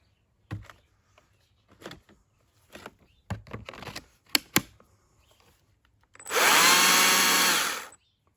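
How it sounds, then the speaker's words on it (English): A chainsaw cutting into a big hedge roars in one loud, sustained burst of about two seconds, after a run of scattered faint knocks and clicks. "Great chainsaw."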